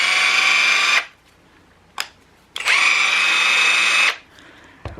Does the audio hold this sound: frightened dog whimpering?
no